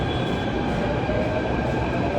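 A metro train rumbles steadily and loudly close by, a continuous low drone with a faint high whine and no voices.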